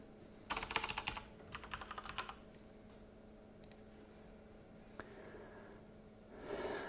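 A file name is typed on a computer keyboard: a quick, close burst of key clicks, then a pause and a few scattered taps, one sharper click, and a faint rustle at the end.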